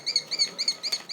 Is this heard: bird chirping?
yes